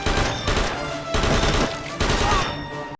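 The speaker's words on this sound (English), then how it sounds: "You shoot a gun and it makes a sound that just really pops." Gunfire rings out in the Medal of Honor light gun game on the Nintendo Wii. Loud, punchy bursts of rapid shots come in three clusters, with brief gaps between them, and no voices.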